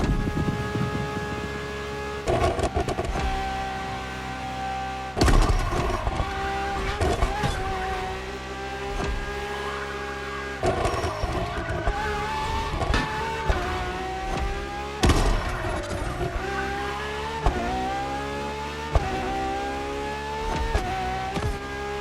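A Ferrari LaFerrari supercar with an F1-style kinetic energy recovery system, driven in The Crew Motorfest, revs hard through repeated rising gear pulls, its engine note climbing and dropping with sharp shift cuts and occasional tire squeal, loud and close without talk.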